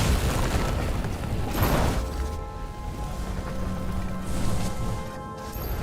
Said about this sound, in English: Someone flooded the transformer and it caught fire.